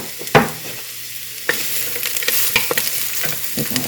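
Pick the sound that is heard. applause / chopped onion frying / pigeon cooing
chopped onion frying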